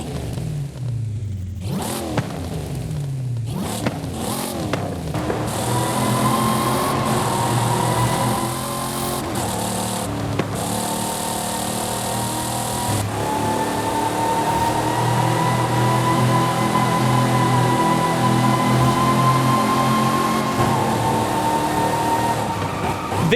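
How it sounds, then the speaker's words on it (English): Dom's Charger in the video game Forza Horizon 5 rumbles with a choppy, lumpy idle, revving up sharply a few times early on before settling into a loud, steady uneven burble that echoes as if in a tunnel. "You can hear the chop when you're just idling."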